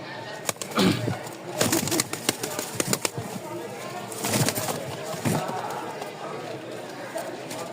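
A pair of Lotan pigeons, male and female, shuffle and flap their wings in bursts between soft coos, while someone talks close by.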